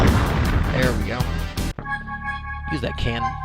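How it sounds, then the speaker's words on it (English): Interceptor cannon fire in the X-Com UFO Defense game: a dense, booming burst of shots that cuts off abruptly, followed by quieter electronic tones. "Use that cannon."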